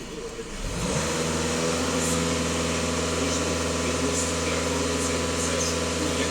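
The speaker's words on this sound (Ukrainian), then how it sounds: "Фіксую дані, даю газ в пол." A VW Passat B8 diesel engine is taken to full throttle, ramping up within the first second into a loud, sustained, steady drone with strong low harmonics, close by and continuous.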